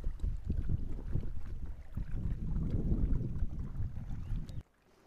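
Canoes paddled off a tour boat through a sea lagoon among rocks near Phuket, a close rumble of wind and water sloshing against the hull that drops away abruptly near the end.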